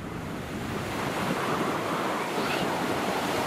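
Sea waves wash against the shore as wind buffets the microphone, a continuous broad roar that swells slightly midway, with no one speaking.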